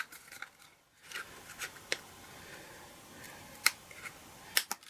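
Scissors snip through a craft treat box in a few sharp, quiet cuts spaced apart, close up with faint handling noise between them and no talking.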